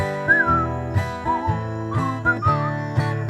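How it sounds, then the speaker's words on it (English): A person whistles a bouncy tune along with a steady backing melody of a song, the whistled notes clear and rhythmic over the accompaniment. "Just purse your lips and whistle, that's the thing."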